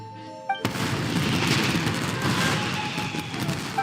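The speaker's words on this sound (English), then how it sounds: "Yoimiya, this is turning into a bit of a fireworks display." Fireworks going off in Genshin Impact burst in with a sudden loud bang, then roll into a dense, sustained crackling barrage that stays close and loud for several seconds with no voices.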